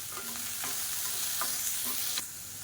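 A large medium-sized onion cut into long slices, frying in a pan while stirred, a steady close sizzle broken by several soft scraping strokes of a spoon, no talking.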